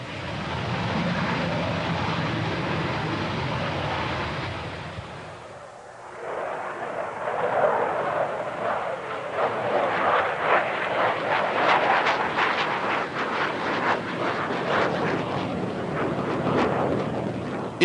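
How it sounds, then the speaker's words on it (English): The E-155 prototype jet aircraft, forerunner of the MiG-25, on its first flight, a loud continuous roar that dips briefly near the middle and then builds again with a rough, rushing texture. "It is the first flight of the E-155, the prototype of what was to become the MiG-25."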